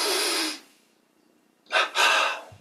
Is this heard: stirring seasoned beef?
no